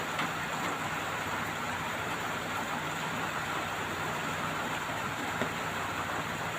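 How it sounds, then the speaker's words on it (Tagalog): Rain falls steadily outdoors during a tropical storm, giving a constant, even hiss at moderate to low level that stays unchanged throughout, with no voices. "Ang patak na ulan."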